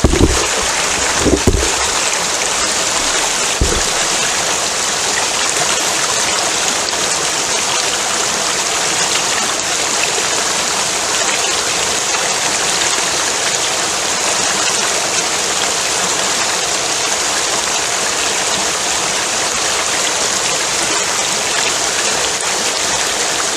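Water rushes steadily from a flooded mine adit, a dense, loud and unbroken roar of flowing water with a few brief knocks at the start.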